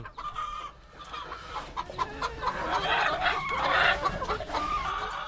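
Pet backyard chickens cluck and murmur continuously at close range, with a few louder rising calls near the end over a busy coop-like background.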